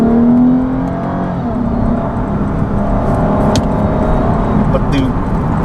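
2014 Lexus IS350 F Sport sedan engine and intake droning steadily from inside the cabin as the car accelerates, a continuous close whirring roar with a faint rising tone and light clicks.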